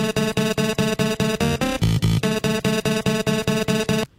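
A looped sample processed with heavy compression, EQ, a high pass filter and reverb pulses in a steady rapid rhythm of bright tonal stabs, briefly shifting to a lower, denser phrase midway before resuming, loud and alone.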